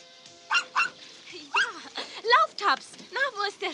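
A small dog in a radio-play garden scene gives a string of short, high, excited yips and barks, close and lively with brief pauses between bursts.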